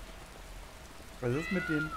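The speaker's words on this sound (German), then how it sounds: "Okay, diese Katzen waren gerade gruselig." Cats meow in modded Skyrim, a cluster of several short, clear calls in the second half, with a quiet German spoken line and faint rain-like patter beneath.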